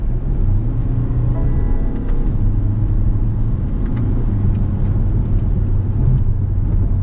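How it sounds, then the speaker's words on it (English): Cabin-heard drone of a BMW 220d M Sport twin-turbo diesel pulling hard under acceleration, a loud, steady low rumble with rising engine tones and road noise, no voices. "Let me just show you how the car performs by putting my foot down."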